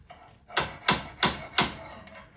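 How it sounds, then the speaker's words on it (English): Slide hammer striking to drive bushings out of a VW adjustable ball joint beam, four sharp metallic knocks in steady succession at close range, fairly light blows with short ringing tails. "we are going to use the slide hammer on this."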